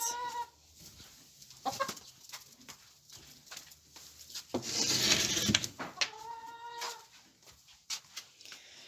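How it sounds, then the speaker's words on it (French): Hens cluck and squawk in short bursts, with a louder flurry of flapping and scratching in the middle, close by on a farmyard. "Mais chut les poules!"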